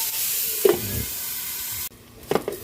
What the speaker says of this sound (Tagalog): Nagisa na po tayo ng bawang sibuyas. Nilagay na rin natin yung ating sahog na chicken.